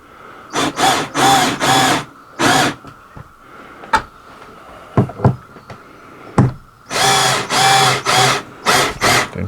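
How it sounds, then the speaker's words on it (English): A power drill in low gear whirs in several bursts, short and long, driving screws while replacing a Coleman Mach air conditioner, with a few sharp knocks and clicks between them; close and loud, no talking. "Now he's going to put the drill in low gear"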